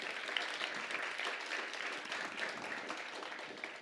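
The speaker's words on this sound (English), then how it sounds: "Let's give a round of applause to the Falcons." Dense, steady applause from a school audience at a Grade 6 celebratory ceremony, many hands clapping together at an even level throughout with no voices over it.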